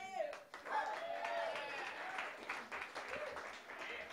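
Audience applause and cheering greet Kevin O'Brien, the host of a beer-versus-whisky comedy debate show, a broad steady wash of clapping from a live crowd with voices mixed in throughout.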